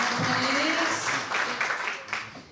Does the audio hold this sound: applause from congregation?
yes